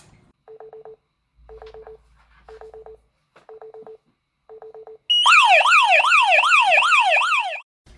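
Gen 2 alarm panel triggered by a garage door sensor gives five short rhythmic beep bursts, then a loud warbling siren that sweeps up and down for about two and a half seconds before stopping.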